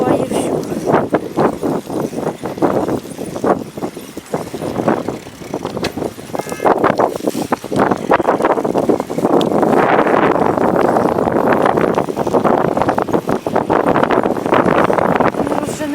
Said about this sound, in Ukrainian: Не розженешся, бо дуже вітер сильний.